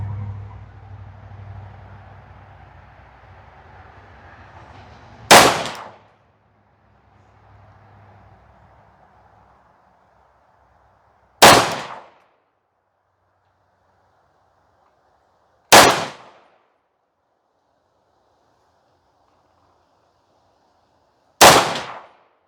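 MC1911 Influencer X pistol fired from a rest, four loud, sharp shots spaced several seconds apart after a stretch of low rumbling background, each report close and ringing briefly, no talking.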